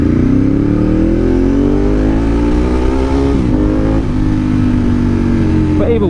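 Steady, loud engine drone of a motorcycle carving through road traffic, its pitch gliding slowly and dipping briefly mid-ride, with continuous wind rush over the microphone throughout.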